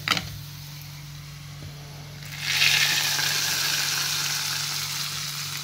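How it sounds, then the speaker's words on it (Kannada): Chopped onion and curry leaves hit hot oil for a tempering and burst into a loud, steady hiss of sizzling that starts abruptly and then crackles on evenly while slowly easing, with no talking. "ಅದನ್ನು ಇಳಿಸಿ ಒಗ್ಗರಣೆ ಕೊಡೋಣ ರೀ."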